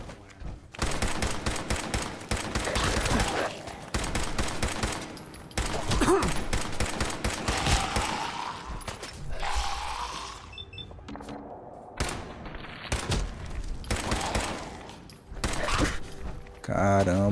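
Repeated bursts of gunfire from a weapon in the video game Fallout 4, rapid volleys packed across the whole stretch, loud and close, with game sounds and someone talking over them.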